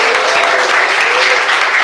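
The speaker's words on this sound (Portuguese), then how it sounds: "Palmas e glória a Jesus" Applause fills a Pentecostal church service following a healing prayer, a dense, steady wash of many hands clapping at once with no gaps across the whole stretch.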